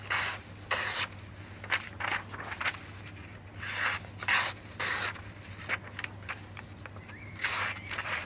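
A Fox Trapper knife blade with a recurve and tanto edge slices through material in a series of short, rasping scrapes and swishes, close and fairly quiet, over a low steady hum.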